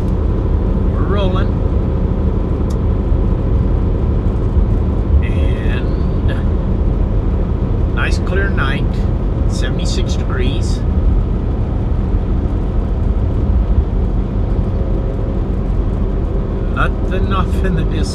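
Steady, distant highway traffic on I-40 at night in the far west: a continuous low rumble of passing vehicles, with a few brief higher-pitched sounds scattered across it.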